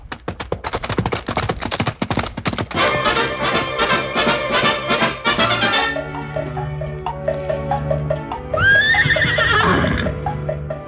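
Horses neighing loudly over a busy rhythmic clatter of hooves, with a final drawn-out whinny near the end; up close with no talking.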